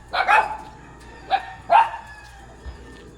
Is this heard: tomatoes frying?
no